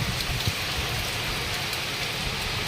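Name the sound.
heavy rain falling outside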